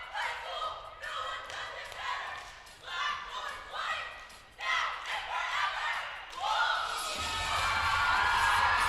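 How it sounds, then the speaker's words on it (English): A cheerleading team at a championship shouting a chant in rhythmic, drawn-out bursts, loud and echoing through an arena, with crowd cheering swelling at the end. "I like how they slowed down their cheer a little bit to maximize the volume that they were able to produce"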